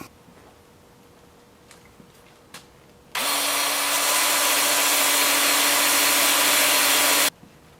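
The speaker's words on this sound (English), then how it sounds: "now I'll just take it over here to the workbench and sand this area up" A power sander works a thin-walled rhododendron wood bowl at a workbench. After a quiet stretch with a few small knocks, it whirs loudly and steadily for about four seconds, then cuts off abruptly.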